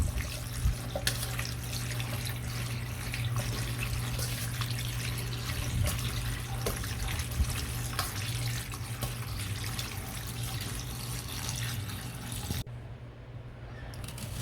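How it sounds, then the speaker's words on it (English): Cool tap water runs steadily from a faucet over drained macaroni in a sink, a quiet continuous splashing hiss with a low hum beneath, easing off near the end. "Run that water and let it cool completely down."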